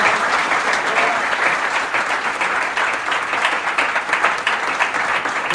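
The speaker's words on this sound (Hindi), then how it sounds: "अगर आपको बरकत मिल रही है तो यीशु के जलाल के लिए तालियां बजा दें।" A church congregation claps during a Hindi-language sermon, a loud, full burst of applause that rises and falls slightly but runs continuously, with no speech heard over it.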